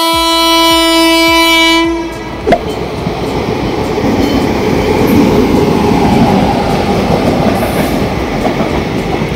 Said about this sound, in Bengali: এটা হচ্ছে হলদিয়া যাওয়ার লোকাল, ঠিক আছে? এটা হচ্ছে আজকে 1 নম্বর প্ল্যাটফর্মে ঢুকছে